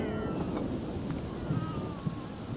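A cat in The Sims 3 meows a few times, faint and mixed into a steady, noisy background hiss without clear speech.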